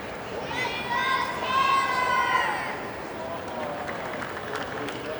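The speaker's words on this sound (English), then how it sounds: "Fritz fan club making their voices heard in grandstand" Tennis fans in a US Open grandstand cheer for Taylor Fritz: raised voices, some chanting in unison, ride over a broad crowd roar that swells and then settles into a lingering hubbub.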